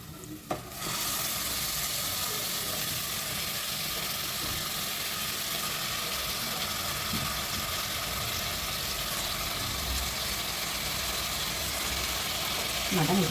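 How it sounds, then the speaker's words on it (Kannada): Washed mutton dropped into a hot oiled pan bursts into a loud, continuous sizzle that starts abruptly and holds steady, close up, with a faint background hum. "ಇವಾಗ ನೋಡಿ ತೊಳೆದಿಟ್ಟಿರೋಂಥ ಮಟನ್ ಹಾಕ್ತಾ ಇದ್ದೀನಿ"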